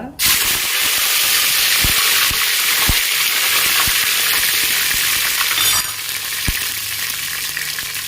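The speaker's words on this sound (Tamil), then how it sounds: "கடுகு கடலை பருப்பு போட்டுக்கோங்க அடுத்து கருவேப்பிலை நிறைய போட்டுக்கோங்க" Mustard seeds, chana dal and curry leaves frying in hot oil give a loud, continuous sizzle and hiss, with light stirring clicks, that eases slightly near the end.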